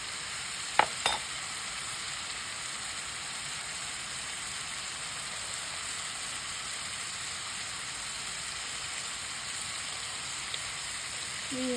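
Tomato sauce with oregano simmers in a pan, giving a steady, soft, rain-like sizzle throughout, broken by a couple of brief clicks of a utensil early on.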